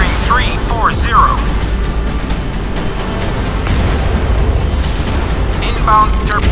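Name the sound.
missile explosion hitting target, submarine video game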